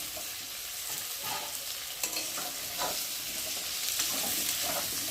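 Potatoes and onions frying in a pan, stirred as they cook: a continuous crackling sizzle broken by repeated scraping stirs, close and fairly loud, with no talking.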